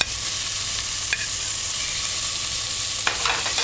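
Chopped tomato sizzles in a hot pan, being sautéed as part of a vegan bok choy stew, with a steady close frying hiss and a couple of faint spoon scrapes from stirring.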